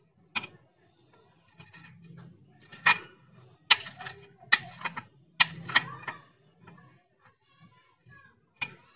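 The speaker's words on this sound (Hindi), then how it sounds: "निकाल करके मैं इसे ब्रश से रगड़ देती हूँ।" A brush scrubs gold or silver jewellery taken out of a cleaning solution. The sound comes in close, irregular bursts of scratchy, clicking strokes with brief pauses between them, and no one speaks.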